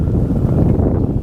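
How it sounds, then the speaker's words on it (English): Wind blows outdoors while fishing, a loud dense low-pitched rumble buffeting the microphone steadily throughout the short stretch with no other distinct sounds. "I didn't think about the wind."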